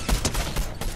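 Shotgun blasts in a zero-build shooter video game, several quick booming shots in a one-second burst, loud and close over a busy game mix.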